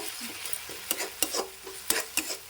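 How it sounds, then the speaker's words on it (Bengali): A spoon stirs dhaba-style egg curry masala in a pan over a low flame, with a soft sizzle broken by several sharp scrapes and knocks against the metal, and no one speaking. "এইবারে এটাকে খুব করে নাড়াতে হবে নাড়াবো"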